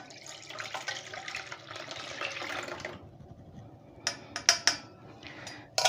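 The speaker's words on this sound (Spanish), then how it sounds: "Ahora colamos la leche." Milk being poured through a strainer, a soft trickling liquid stream for a few seconds followed by light clinks of metal utensils and dishes, fairly quiet and close.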